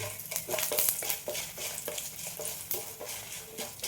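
Four or five dried red chilies frying in a pan on low heat, a steady soft sizzle broken by scraping stirs and light clinks of a utensil against the pan, with no voices.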